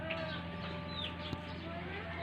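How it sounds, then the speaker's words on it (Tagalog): Chickens cluck softly amid a dense, steady background of farmyard noise, with no one speaking. "Ang aming mga manok."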